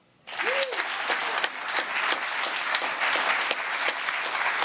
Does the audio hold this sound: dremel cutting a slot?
no